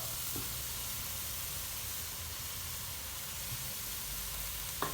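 Steady, faint hiss and sizzle of chicken stir-frying in a wok with holy basil and bamboo shoots as oyster sauce goes in, a constant frying crackle with a couple of soft clinks.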